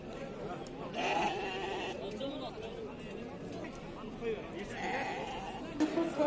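Sheep bleat repeatedly at the Ozgon livestock market, their calls rising over a busy crowd with people talking throughout.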